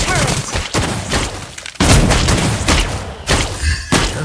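Clint firing rapid bursts in the mobile game Mobile Legends, dense punchy blasts and booms crowding together alongside other game effects and voices.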